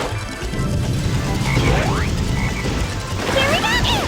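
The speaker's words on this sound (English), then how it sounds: "There's that black frog again!" A black frog croaks in the video game Sonic Heroes, with rising chirps and a smash amid busy game music and effects, loud and close.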